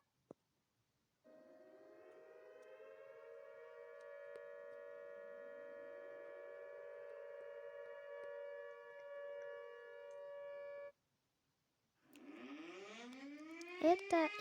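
A Siren Head siren sounds a sustained, steady wailing tone with rich harmonics that holds for roughly ten seconds and cuts off, then a second rising, warbling siren burst follows after a short pause, with a click at the start.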